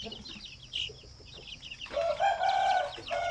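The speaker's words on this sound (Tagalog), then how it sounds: "Itong mga sisiw na ito." Month-old native sampin chicks peep and cheep in quick, high calls, a few scattered chirps at first, then a denser, louder cluster of close chirping near the end.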